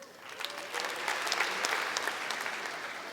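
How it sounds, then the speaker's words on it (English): A stand-up comedy audience applauds, the clapping swelling quickly from scattered hands into a full steady round that holds to the end. "By round of applause."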